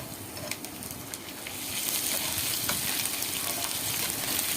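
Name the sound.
stirring crushed ginger and garlic frying in a pan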